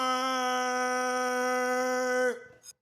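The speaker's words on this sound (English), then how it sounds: "The school bell." A school bell sounds as a steady, sustained electronic tone for a couple of seconds, then cuts off abruptly.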